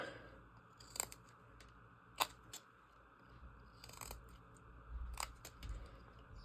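Short, crisp scraping cuts of a knife blade shaving wood while carving a wooden bull's snout, a few sparse strokes spaced a second or more apart, close and fairly quiet.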